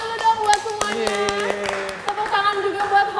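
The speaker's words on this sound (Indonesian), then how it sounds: "Tepuk tangan." Audience clapping after a cardio dance workout class, sharp irregular hand claps over a held musical tone, moderately loud and close, with voices faintly mixed in.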